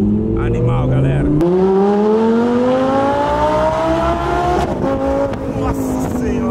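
An Audi R8 engine roars loudly, its pitch climbing steadily under hard acceleration with a brief shift, while people talk excitedly over it.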